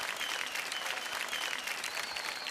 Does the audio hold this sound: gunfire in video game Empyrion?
no